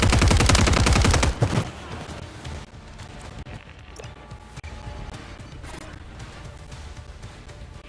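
Automatic gunfire in Call of Duty: Warzone: a loud, rapid burst for just over a second, then quieter in-game ambience with a few faint distant knocks.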